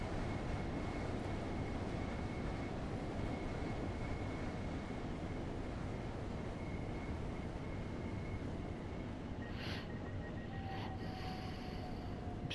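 An 8-car train in Train Sim World 3 rumbles steadily along the line toward London Victoria, a constant broad roar with a faint whine and brief high squeals near the end.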